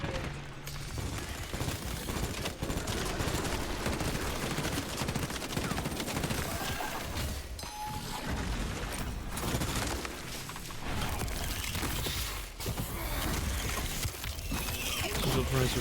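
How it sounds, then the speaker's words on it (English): Gunfire and explosive bursts from a shooter video game as a shrapnel grenade is thrown, dense and continuous for the whole stretch with repeated loud blasts and rattling shots. "Deploying shrapnel grenade."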